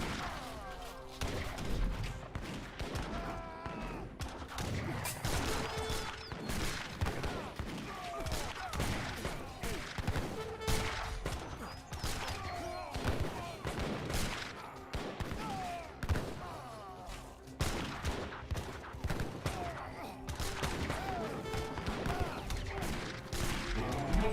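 Massed musket volleys crack through a battle in the game Age of Empires 3, a dense, continuous rattle of overlapping gunfire and impacts with game effects, loud and steady throughout, with a commentator's voice faintly beneath.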